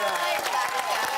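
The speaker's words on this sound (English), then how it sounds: "give her a clap" Studio audience clapping on a live TV panel show, a steady wash of applause lasting a little over a second.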